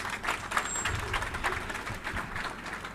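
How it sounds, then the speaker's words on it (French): An audience applauds at the inauguration of a technical high school in Petit-Trou-de-Nippes. The clapping is a steady, fairly faint and distant patter that fills the whole stretch. "je vous demande d'applaudir"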